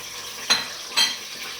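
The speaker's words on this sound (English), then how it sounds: "onions are brown, you just put in little water, so that the onions can be soft" Browned onions in cooking oil with a little water added, a soft steady sizzle broken by two quick bright hisses or stirring scrapes about half a second apart.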